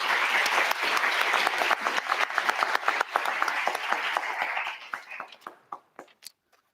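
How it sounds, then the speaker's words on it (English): Applause from a lecture audience welcoming judges at a university computer graphics rendering competition: full clapping at first, then thinning into scattered individual claps that die out. "let's give a round of applause to welcome our judges today"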